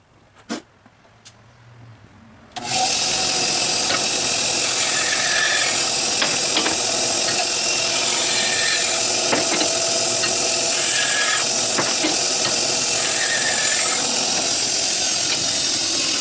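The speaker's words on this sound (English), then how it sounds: "then I'll take them over to my bandsaw and cut them" A bandsaw cuts wood pieces for a glider bench, starting with a few clicks and a faint hum before a loud, steady buzzing whine that carries on with slight rasping shifts as the pieces feed through.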